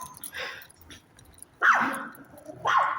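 Two sharp, loud dog barks ring out close by, separated by a short pause, with faint rustling and background noise between them.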